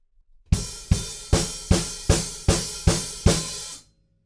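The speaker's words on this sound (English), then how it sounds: "the hi-hats kind of stay over onto beat 1, and that's when you close them" Seven evenly spaced crisp hi-hat hits with a ringing sizzle, each decaying briefly, then the hi-hats close with a short choke on the downbeat, close-miked and alone.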